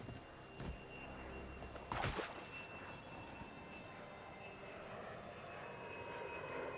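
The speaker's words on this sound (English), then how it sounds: "Is that plane gonna get sucked into the black hole?" Airliner flying overhead in Bright Memory: Infinite video game, a sustained aircraft engine roar with a steady high whine, joined by a couple of brief bursts early on, under faint talk.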